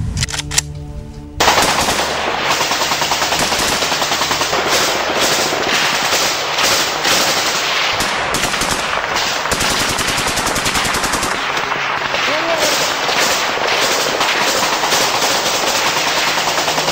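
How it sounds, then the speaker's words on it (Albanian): Sustained volleys of rapid gunfire from both sides in a staged battle scene of a war film, with dense, continuous automatic bursts and loud cracks running unbroken for the whole stretch after a brief quieter opening. "Fillon breshri plumbash, dhe thonë, shkëmbim zjarësh nga të dy palet"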